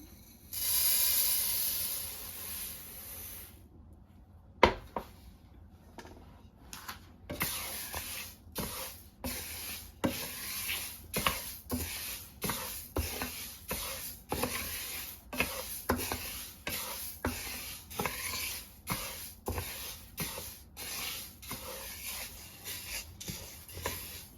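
An ingredient dry-roasts in a hot pan on a stove for Jaffna modakam. A soft hiss carries under a long run of regular scraping stir strokes, each one close and fairly even.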